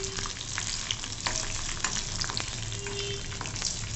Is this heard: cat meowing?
no